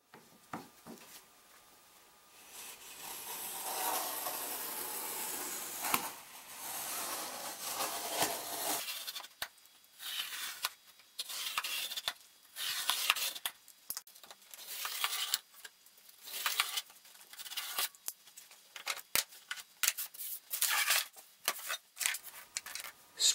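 Blade scoring both sides of clamped material by hand, heard as a long scraping rub followed by a series of quick, sharp scratching strokes and taps, close and fairly faint.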